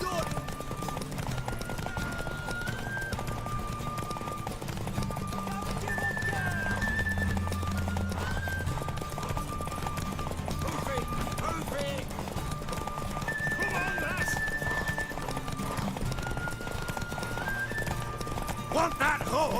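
A horse in The Witcher 3: Wild Hunt on PC, hooves clip-clopping at a run with repeated neighs and whinnies, while game characters talk over the hoofbeats.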